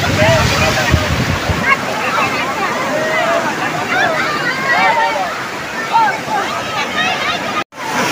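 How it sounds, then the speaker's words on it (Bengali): Big sea waves roll onto the crowded beach at Old Digha, a steady loud surf wash with wind buffeting the microphone, under constant chatter and shouting from many bathers nearby. "বিশাল ঢেউ দিচ্ছে, আর বিশাল ঢেউ দিচ্ছে"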